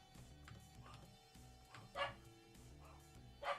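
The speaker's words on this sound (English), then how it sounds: "But they're out there, making noise." Dogs outside let out a few scattered barks, faint and distant, with two slightly louder yips over a low steady indoor hum.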